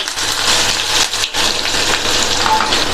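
Onions and chillies sauté in a hot pan, a loud, steady crackling sizzle with scraping stirs and a brief lull partway through; no voices.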